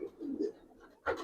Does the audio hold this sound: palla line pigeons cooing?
yes